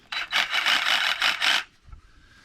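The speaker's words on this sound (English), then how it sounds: "I got to cut this up, and I'm just going to use my trusty Sawzall right here," A Sawzall reciprocating saw cuts through sassafras wood in a run of about five rasping strokes, close and fairly loud, then stops.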